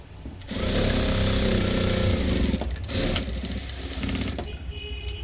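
A sewing machine runs steadily as it stitches a fabric strip onto a blouse, a loud continuous motor whir with rhythmic needle clatter, briefly slowing near the middle before running on again.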